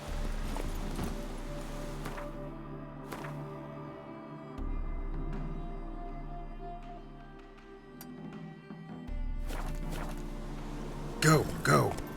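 Roach the horse trots along in The Witcher 3, a steady clip-clop of hooves running under background music, with a sharp clatter near the end and someone speaking.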